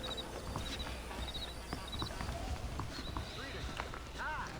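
A horse's hooves clop in Red Dead Redemption, a quiet rhythmic patter of steps beneath background game sound and a talking voice.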